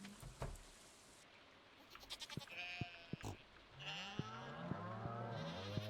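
Farm animals bleating in the video game Stardew Valley, with several short, distinct goat and sheep calls spread across the stretch over a quiet background.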